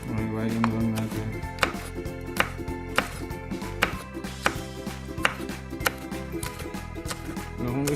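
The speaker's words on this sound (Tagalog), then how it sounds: "So hiwain lang natin." A knife chops vegetables on a board for fresh lumpia, a steady series of sharp close thuds roughly every half second while someone talks over a humming background.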